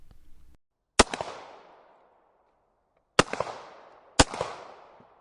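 Gunshots echo through a shopping mall, three sharp cracks with long reverberant tails, the first alone and the last two closer together, loud against a quiet background.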